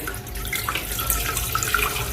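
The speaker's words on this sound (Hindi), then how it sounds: "इसके अंदर आधा जग पानी का डालेंगे," Water poured from a jug into a pressure cooker holding half a kilo of soaked mash lentils, a steady close splashing and trickling stream throughout with no talk.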